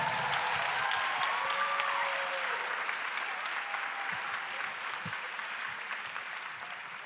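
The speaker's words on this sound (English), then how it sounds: "giving them the biggest round of applause you can" An awards-event audience gives sustained applause for donors, a broad, continuous patter of many clapping hands that holds for about seven seconds and fades gently toward the end; a few faint whistles or cheers rise briefly early on.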